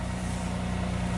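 A 1995 Nissan Maxima engine idles at low RPM in a steady, even hum with a low rhythmic pulse, heard close and on its own.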